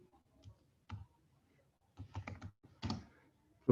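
A computer keyboard clicks in short, irregular bursts of typing, close and clear against near silence, with pauses between the keystroke clusters.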